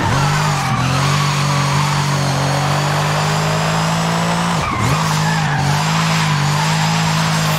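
A Brabus 800 in Forza Horizon 5, heard from the cockpit, holds a loud, steady engine drone with a sustained tyre squeal, dipping sharply for a moment near the end before resuming at full volume, with no talk.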